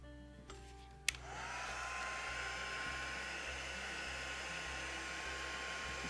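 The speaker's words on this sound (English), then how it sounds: "Just letting that everything warm up a bit and the heat gun warm up a bit." A heat gun switched on with a click and then blowing steadily to dry black paint over gesso, a loud continuous airy whir with a faint whine, close by, and no talking.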